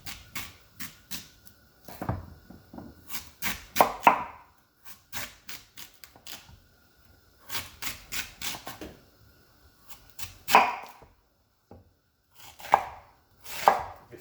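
Knife chopping ingredients for a Jamaican ital peanut and gungo peas soup: crisp, close blade strikes on a board in short rapid bursts, separated by brief pauses, with no talking.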